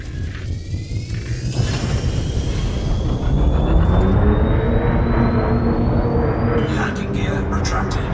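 A spaceship lifts off a planet's surface in the video game Elite Dangerous, with a loud, steady engine rumble and a slowly rising whine building over several seconds.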